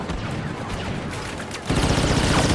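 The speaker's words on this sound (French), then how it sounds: "Oula, ça tire." Blaster gunfire rattles in the Star Wars Battlefront 2 video game, a steady dense barrage of shots that swells louder and heavier about halfway through.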